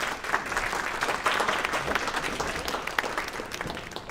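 Audience applause at a high school alumni hall of fame induction ceremony, honoring the year's inductees; steady, dense clapping from a large crowd in a hall, fairly even throughout with no talk.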